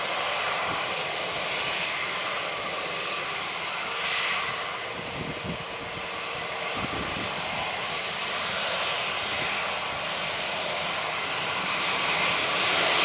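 A Cathay jet airliner takes off from runway 23 left at Manchester Airport, its engines building to a loud, sustained roar that swells and holds steady, close by and with no talk over it.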